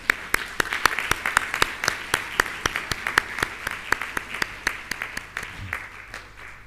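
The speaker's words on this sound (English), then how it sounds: "A louder round of applause would not hurt the sponsors." Sparse clapping at an international accountants' conference, applause for the sponsors: a handful of distinct, evenly spaced hand claps, fairly close and crisp, thinning out toward the end.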